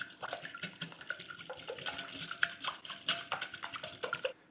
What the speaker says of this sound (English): I need a couple of room temperature eggs. And whisk those really well